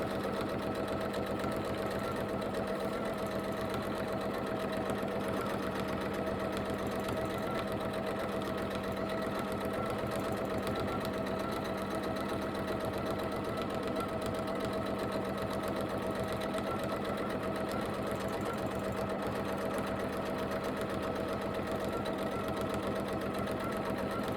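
A sewing machine stitches free-motion quilting swirls while couching, using 80-weight Deco Bob bobbin thread and 50-weight top thread, its motor running in a steady, close, continuous whirring drone with no pauses.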